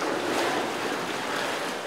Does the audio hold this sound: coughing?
no